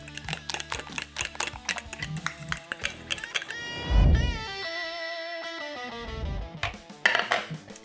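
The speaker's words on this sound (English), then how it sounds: "Mix them well with the banana." Eggs being mixed with mashed banana in a bowl for a flourless Greek yogurt cake, a run of quick clinking and tapping strokes against the bowl, close and fairly loud, with no one talking.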